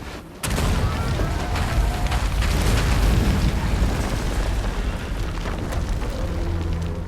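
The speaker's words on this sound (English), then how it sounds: "It's got the slime. It's about to explode on him." A Brachydios slime blast in Monster Hunter erupts with a sudden heavy boom, then a long rumbling, crackling roar that stays loud for several seconds.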